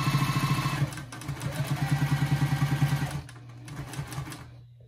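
A sewing machine back stitching fabric for a bowl cozy runs in a fast, steady mechanical rattle at close range. It stops abruptly after about three seconds, leaving a few quieter clicks and handling noises.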